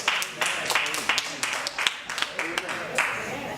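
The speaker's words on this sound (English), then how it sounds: "That's a good place to clap right there." Scattered, uneven hand claps from a church congregation during a sermon, a dozen or so sharp claps spread across a few seconds alongside a speaking voice.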